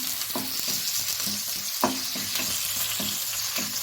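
Long thin slices of ginger sautéing in a hot pan for kappa biryani: a loud, dense, continuous sizzle with repeated rhythmic stirring scrapes, no voices.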